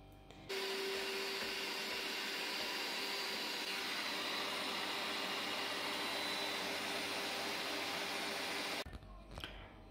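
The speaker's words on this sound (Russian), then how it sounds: "буду собирать сейчас мясорубку и крутить яблоки" Electric meat grinder mincing apples in a home kitchen, a steady loud motor whine with a constant tone running unbroken for about eight seconds before cutting off abruptly.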